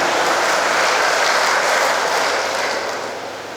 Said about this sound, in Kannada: ಚಪ್ಪಾಳೆ ಮೂಲಕ ನೀವು ಸಮ್ಮತಿಯನ್ನ ಸೂಚಿಸಿದ್ದೀರಿ